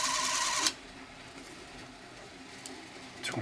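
A Super 8 film camera's mechanism whirs steadily at 24 frames per second during a repair, with a louder burst of running at the start and a brief rise near the end, no voices.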